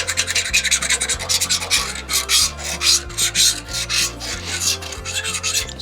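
Buildup is scraped off a Frontier portable sawmill in quick, rhythmic rasping strokes, close and fairly loud, with no voices.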